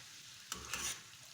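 Onions sautéing in a pan until golden brown for a dhaba-style Punjabi rajma masala, heard as a soft frying sizzle broken by a quick scrape of stirring. The sound is brief, close and faint.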